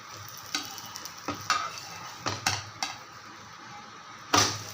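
An oats and egg snack sizzles softly in a pan while a spatula scrapes and taps, with a few separate knocks as it is turned over and a sharper clatter near the end.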